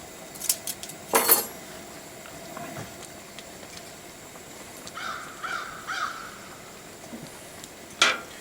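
A spoon scrapes and scoops thick homemade gravy in a pan at a rustic off-grid log cabin, giving a few sharp metallic clinks near the start and end with softer scraping in between.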